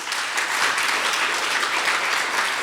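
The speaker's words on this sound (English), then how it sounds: "Let's give them a round of applause." An audience at a leadership award ceremony applauds warmly, with dense, steady clapping from a large room throughout and no one speaking over it.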